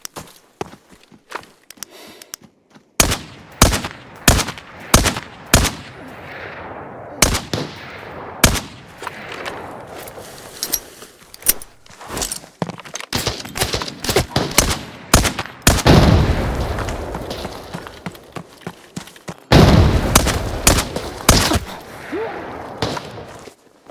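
Gunfire in the video game Arena Breakout: Infinite: repeated sharp shots in bursts and single cracks, loud and close, with scattered footsteps and movement between volleys.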